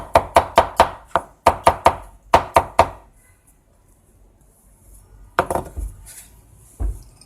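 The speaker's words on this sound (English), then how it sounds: "she's going to chop them real quick" A knife chops garlic on a cutting board for pork bun filling: quick bursts of three or four sharp taps, a pause, then a few scattered later knocks.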